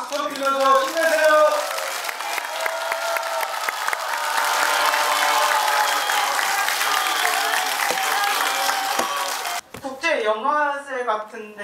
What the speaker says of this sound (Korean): 여러분들 장관님한테 박수 좀 빌려서 힘내세요